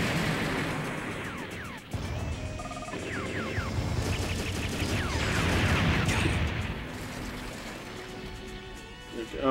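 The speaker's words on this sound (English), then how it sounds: "Oh, yep, the robots are shooting again." Robots firing guns in the game Robotech Battlecry, a dense, continuous barrage of rattling shots and metallic crashes layered with game effects, fairly loud throughout, with a voice talking over part of it.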